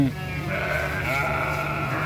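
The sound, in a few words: sheep bleating while being sprayed against lice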